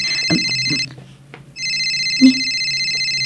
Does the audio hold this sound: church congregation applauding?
no